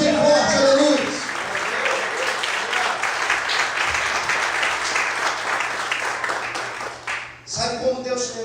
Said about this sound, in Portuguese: Quantos podem glorificar e aplaudir a Jesus bem forte, aleluia.